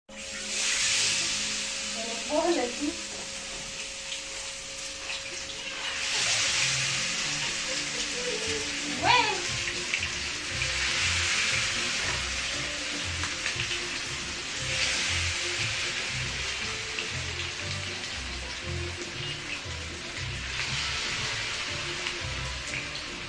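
Hot oil bubbling and crackling steadily in a deep fryer pot, a continuous close sizzle that swells and eases in waves over about twenty seconds, with a few brief voice sounds above it.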